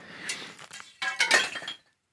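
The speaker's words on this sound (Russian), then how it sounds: "Упал сталагмит. То есть они сами рушатся." Brittle mineral formations crack and shatter inside an old abandoned German mine tunnel, giving short glassy bursts of breaking and clinking debris that end in a sudden silence.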